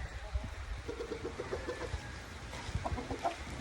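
Chickens clucking at a backyard coop in the rain as they gather for a tray of treats, a soft run of short, repeated clucks amid a steady hiss of rain, with no talking.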